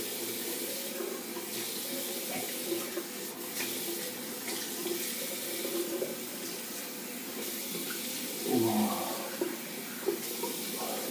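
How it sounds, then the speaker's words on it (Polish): Cold tap water runs steadily into a sink while a face is rinsed after shaving, a continuous close splashing wash with a few louder splashes near the end and no talking. "A teraz zimna woda na twarz."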